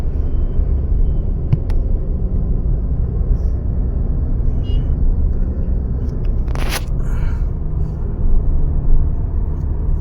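A Tata Safari with a 2-litre diesel engine drives on the Bharatpur–Jaipur highway, a steady low engine and road rumble filling the cabin, with a brief sharp rattle partway through.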